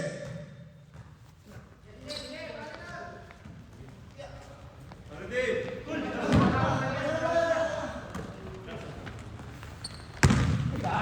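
Basketball bouncing on an indoor court during a barkadahan league game, with a sharp bounce thump near the end over crowd noise and an excited play-by-play commentator talking throughout.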